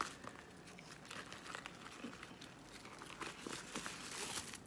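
Clear vinyl plastic of a small black cosmetics pouch crinkles steadily as it is handled up close, a continuous soft rustle with small crackling bursts throughout.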